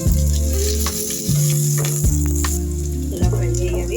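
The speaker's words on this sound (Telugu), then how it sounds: "ఇప్పుడు ఆనియన్స్ కూడా వేస్తున్నానండి" Chopped onions hit a hot pan already holding green chillies and garlic and fry with a steady sizzle, heard close under continuous background music.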